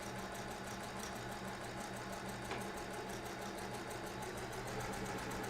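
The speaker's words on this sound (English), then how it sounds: "I just kind of lay my hand on there and let my machine pull the fabric" Sewing machine stitching quilt fabric for a star sampler block, a continuous fast mechanical chatter with a steady rhythmic pulse and low motor hum, close and even throughout.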